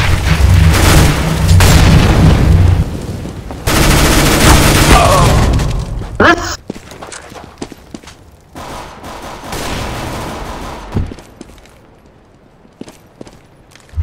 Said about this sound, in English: Throwing a flashbang! Go!